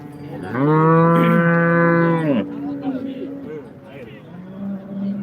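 At a busy cattle market, a cow lets out one long, loud, close moo lasting nearly two seconds, followed by lower murmurs and speech from the crowd.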